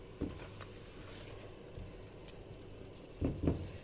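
A soft, steady sizzle of blended tomatoes sautéing in a pan, broken by a few occasional clinks and taps of a utensil.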